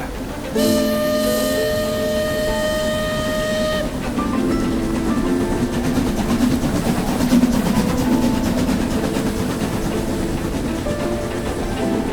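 A steam whistle blows over a rumbling train, then the chugging and clatter of the moving train continue steadily, loud and close.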